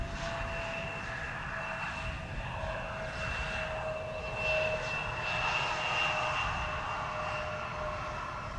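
A Delta Airlines jet airplane at Amsterdam Schiphol Airport produces a steady, distant engine roar with a faint whine held throughout, slightly swelling midway.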